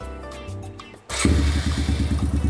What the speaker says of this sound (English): Cold start on this bike.